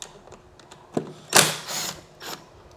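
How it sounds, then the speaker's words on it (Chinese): Hex socket screws being loosened with a 5 mm hex key on a Gogoro electric scooter: a few close metallic clicks and ratcheting scrapes, with one louder grinding turn. "这四颗螺丝是内六角5号， 你就把它卸掉。"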